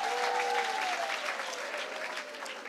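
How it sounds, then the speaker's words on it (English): A church congregation at a testimony session applauds in a loud, dense wash of clapping with a few voices calling out, fading slightly toward the end. "Let's clap to God and we give him the glory."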